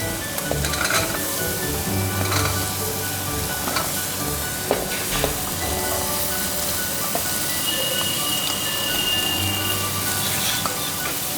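Pieces of bottle gourd sizzle steadily in a hot pan for a South Indian kootu, a loud continuous frying hiss with occasional stirring clicks and scrapes.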